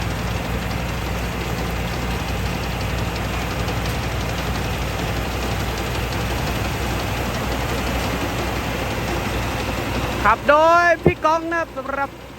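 A Tamco S7000 rice combine harvester runs with a steady, continuous engine drone and rumble, and a voice starts talking over it near the end.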